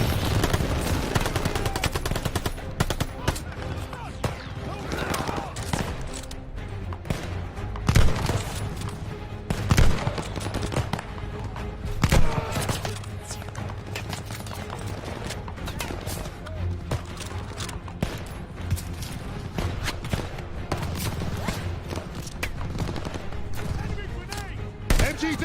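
Machine gun fire in the Call of Duty Vanguard video game, with a battle against reinforcing MG positions and a half track: sustained rapid bursts and scattered shots, a few heavier booms, and shouting voices underneath.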